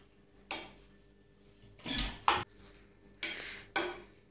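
Salad with kinnow orange is tossed in a bowl, making four or five clinking, scraping strokes of a utensil against the dish, close and fairly quiet with short pauses.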